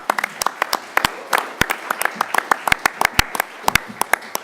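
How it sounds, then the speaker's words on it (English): Applause breaks out from the audience at a flood and disaster preparedness town hall, with sharp, scattered claps in an uneven rhythm from a modest crowd, close and moderately loud throughout. "A round of applause for Michelle."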